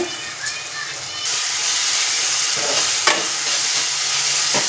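Chicken curry in coconut milk being stirred in a pan with turmeric and salt, a steady close hiss of frying with scraping stir strokes, under occasional faint speech.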